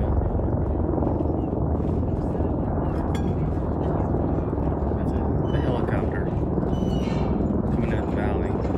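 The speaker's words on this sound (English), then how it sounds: "Helicopter." Steady rotor drone of a helicopter flying over a Swiss valley, a constant low chopping roar throughout, with faint voices and small sounds over it.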